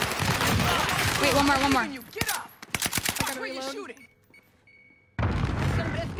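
Gunfire and sniper shots in an online battle royale video game, a burst of sharp rapid shots followed by several isolated cracks, mixed with a player's excited talk.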